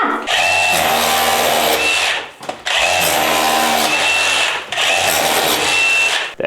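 A large SDS hammer drill bores into a house wall in three loud, sustained bursts, each lasting about two seconds with brief pauses between, close and unaccompanied by speech.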